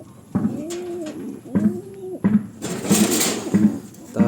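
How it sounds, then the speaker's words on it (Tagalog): Young pigeons from Taiwan bird stock coo repeatedly, a series of soft, rounded close coos at a steady rhythm of about one per second, with light background rustling and no talking. "Ito anak ng Taiwan bird."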